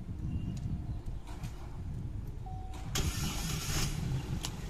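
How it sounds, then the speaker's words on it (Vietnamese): A car engine started with a smart key cranks and fires up after a moment of quiet rumbling, then settles into a steady running sound close by. "Các bác nghe kỹ tiếng máy này, em sẽ để nổ bằng chìa khóa thông minh."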